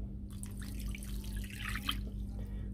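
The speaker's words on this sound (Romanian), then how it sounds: "O să adăugăm apa călduță." Warm water poured into a wholegrain bread mixture with seeds gives a soft, steady splashing trickle lasting a few seconds, close by, with a low hum underneath and no talking.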